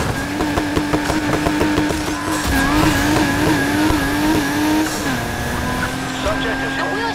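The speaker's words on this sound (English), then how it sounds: "Be advised, pursuit subject is ramming our vehicle. We're going panel to panel here, Control." Car ramming a police vehicle in Need for Speed Heat, with a Nissan Silvia in the pursuit: loud continuous engine drone and tire squeal with scraping panel-to-panel impacts, under steady voice chatter from police radio and driver.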